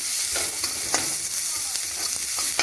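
Tomatoes and potatoes sizzle and fry in a pan, with a steady hiss and occasional scraping stirs and clicks of a utensil.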